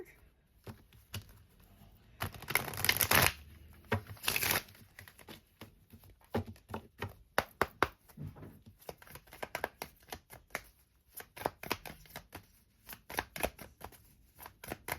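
Tarot cards are shuffled close by in a run of quick riffles and crisp shuffling bursts, loud at first and then continuing in irregular flicks, with no talk.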